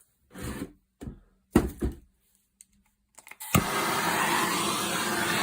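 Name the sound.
MAP gas blowtorch burning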